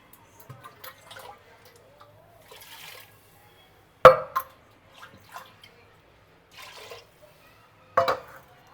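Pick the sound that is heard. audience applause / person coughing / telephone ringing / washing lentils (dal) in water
washing lentils (dal) in water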